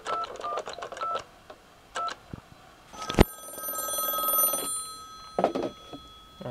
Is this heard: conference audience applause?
no